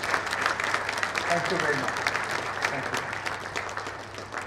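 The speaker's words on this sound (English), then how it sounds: "they all deserve a standing ovation, please, and a big round of applause" Audience applause after presentations at an architects' anniversary event, sustained crowd clapping throughout, with a voice briefly speaking over it.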